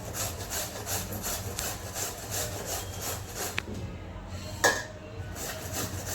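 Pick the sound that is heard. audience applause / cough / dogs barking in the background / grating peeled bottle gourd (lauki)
grating peeled bottle gourd (lauki)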